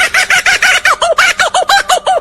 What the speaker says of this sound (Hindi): नंबर 1 पे आता है लाफिंग कुक्काबुर्रा और इसकी आवाज ऐसी होती है जैसे मानो कोई